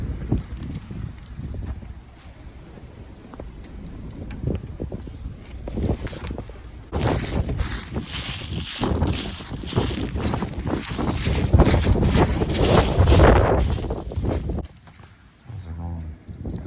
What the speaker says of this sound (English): Big time gust of wind.